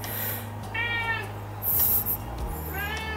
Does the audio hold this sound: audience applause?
no